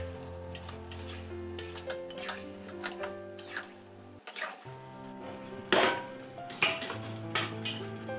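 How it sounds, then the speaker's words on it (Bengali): Meat and spices fry in a pan while being stirred, giving a low sizzle broken by scraping and clinking of a spoon against the metal, quiet and close, with a steady hum underneath. "মশলাটা আর মাংসটা খুব ভালো করে কষে নেবে"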